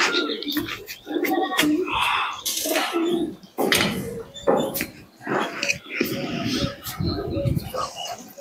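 Pakistani pigeons in a large home loft coo loudly and close, their rolling calls mixed with talking voices and other animal noise in a busy, crowded soundscape.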